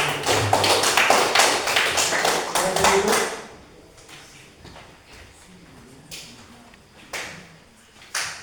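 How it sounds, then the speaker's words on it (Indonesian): A classroom audience claps for a presenting group, a close, dense burst of hand claps lasting about three seconds before fading to scattered taps and murmuring voices. "kalau gitu kita beri aplaus kepada"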